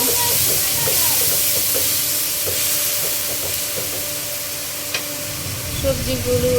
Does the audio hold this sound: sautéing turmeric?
yes